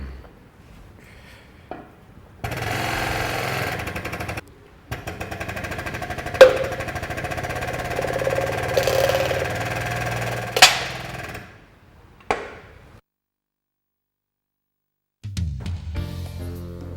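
A workshop hydraulic press pushing the hub off a Subaru WRX, with long steady loud mechanical droning runs broken by sharp metallic cracks and clanks, stopping and restarting with a silent gap near the end.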